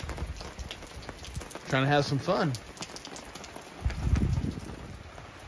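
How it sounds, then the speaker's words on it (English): Rain patters steadily on a wet day outside a motorhome parked under its awning, a soft continuous spatter heard beneath someone talking. "you can see here the rain pitter-patter in the background"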